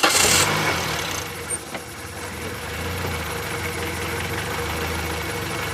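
A Toyota Yaris engine with a cold start problem, cranking in a short burst and then settling into a steady rough idle, close and fairly quiet.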